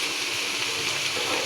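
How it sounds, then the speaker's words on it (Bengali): Bottle gourd, boiled beforehand, frying in mustard oil in a pan, giving a steady, even sizzle with constant hiss throughout, close and moderately loud, with no talk. "সরিষার তেল দিয়ে ভাজিটা করতেছি"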